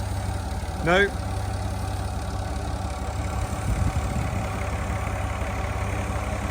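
A tractor engine idles with a low, steady chugging throb close by, while a voice briefly speaks over it.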